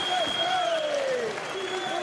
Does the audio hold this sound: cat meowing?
no